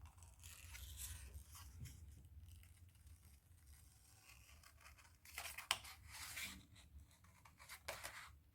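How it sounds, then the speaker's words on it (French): Small scissors snip through paper while cutting out a snowball-shaped piece for a Christmas scrapbook photo album, producing soft, close, irregular crisp snips and scraping rustles with a few sharper cuts near the end. "on peut prendre des petits ciseaux."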